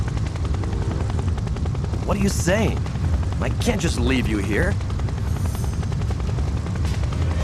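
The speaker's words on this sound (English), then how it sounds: "Right now, the helicopter's safety is the most important." Steady low helicopter rotor roar from an animated rescue show, running loud throughout a windy scene while a character speaks briefly over it midway.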